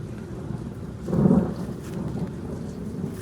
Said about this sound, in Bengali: আর মেঘ গুরু গুরু করে ডাকছে।